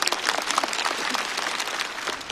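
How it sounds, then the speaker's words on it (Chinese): Dense, steady applause from a live audience at a stand-up comedy show, a continuous wash of many hands clapping close and full for the whole stretch with no voices standing out. "再次掌声送给大国手和折耳根俱乐部。"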